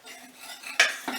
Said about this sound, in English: So mix that together to make a paste